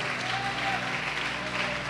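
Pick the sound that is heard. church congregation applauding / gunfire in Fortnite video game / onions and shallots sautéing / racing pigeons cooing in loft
church congregation applauding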